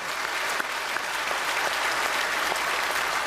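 A church congregation at a special early-morning revival service applauds loudly and continuously, a dense sustained clatter of many hands filling the room.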